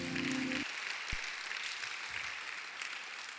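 A church congregation claps steadily in a reverberant hall, the applause soft and sustained after a brief tone at the start.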